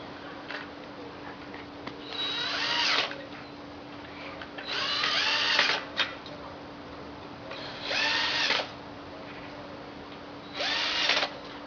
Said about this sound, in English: Take your drill driver, hold firmly and